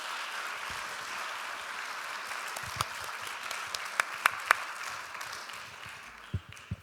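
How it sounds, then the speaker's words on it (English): An audience at a talk in a synagogue applauds steadily, with a dense wash of clapping and a few sharper individual claps standing out. "give this wonderful speaker a round of applause"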